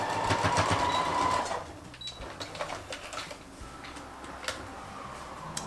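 Sewing machine stitching across the corner of a triple zip bag, a steady mechanical whir at the start that gives way to lighter ticking and clicking nearby, with no talk over it.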